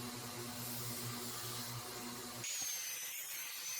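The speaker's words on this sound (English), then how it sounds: "Then it's over to the belt grinder to tidy it all up." A belt grinder runs on a metal chuck spanner, rounding off its corners: a steady, fairly loud abrasive whine that shifts to a brighter, hissier grinding tone partway through, with no voices.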